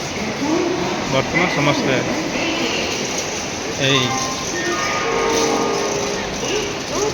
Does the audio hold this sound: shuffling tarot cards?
no